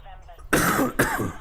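Two harsh, close coughs in quick succession, the first longer and the second shorter, with faint voice sounds before them.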